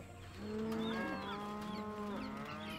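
Domestic cattle lowing in a long, drawn-out moo that rises and holds, followed by a second call, heard clearly at moderate distance over quiet background.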